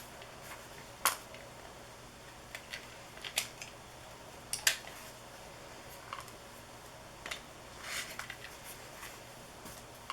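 Scissors snip through fabric quilt pieces a quarter inch from a sewn pumpkin-block seam, giving a few sharp, close crisp cuts spaced irregularly over a faint quiet room.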